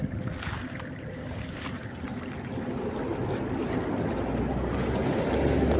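Water rushes steadily into a vegetable garden, a continuous hissing flow that grows slightly louder over a few seconds, with no voices.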